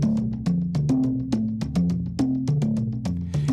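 A synth pattern inspired by the kora plays a polyrhythm: a low bass line under a repeating descending triplet of plucked tones, steady and upfront, with no voices.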